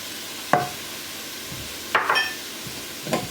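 Spoon stirring chicken noodle soup ingredients in a pot, three separate scraping strokes spaced about a second apart, close and fairly quiet with no talking.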